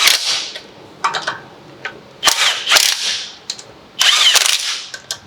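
Impact wrench fitted with torque sticks running down the lug nuts on a 2018 Honda Civic Si wheel, heard as three loud, rattling hammer bursts, each under a second long, with short quiet gaps between them.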